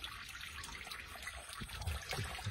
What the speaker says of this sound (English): Now you know that sound. It's water running underground.